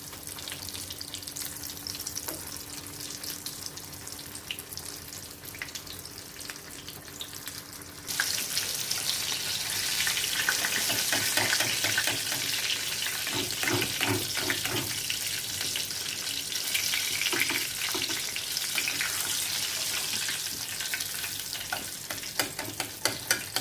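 Oil hisses steadily, then swells into loud, crackling frying as a large chicken cutlet hits the pan, sizzling continuously up close with occasional scrapes.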